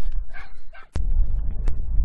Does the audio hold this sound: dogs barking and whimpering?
yes